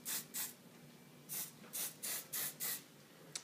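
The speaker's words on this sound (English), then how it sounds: "I'm going to spray the sides before I put it into a ponytail." Hairspray sprayed in a series of short hissing bursts onto the sides of hair before it is pulled into a ponytail, close and fairly soft, with brief pauses between about six or seven sprays.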